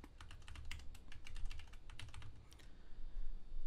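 A password is typed on a computer keyboard, a quick run of about a dozen light, crisp key clicks in an irregular rhythm, close and fairly quiet, ending with a brief pause and soft desk noise; no talking.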